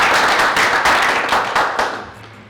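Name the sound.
audience applause for volunteers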